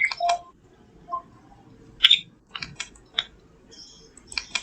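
Keys clatter on a computer keyboard in short bursts of typing with pauses between, fairly close, while someone enters a report layout; no talk over it.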